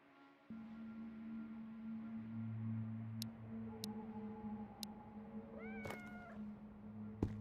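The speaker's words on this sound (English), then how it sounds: "Cat? Oh, cat." A cat in the survival video game Road to Vostok gives a few rising, drawn-out meows over a steady low mechanical hum, with several sharp ticks scattered through. It sounds faint and somewhat distant.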